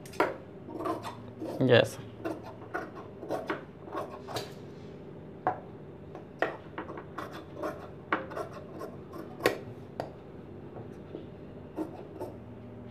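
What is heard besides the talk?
cutting away extra fabric inside a blouse seam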